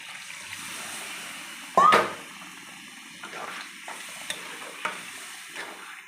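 Water is splashed into a pan of sizzling, oil-rich chicken kosha, giving a sudden loud hiss and burst. Quieter bubbling and scraping stirs follow, with occasional clinks of a spoon against the pan.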